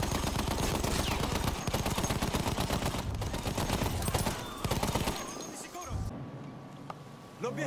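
Machine gun fire in the Battlefield 1 video game, a dense continuous rattle of automatic shots close by for about five seconds before dropping away, with voices talking over the battle.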